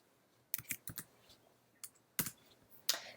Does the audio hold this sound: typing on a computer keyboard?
yes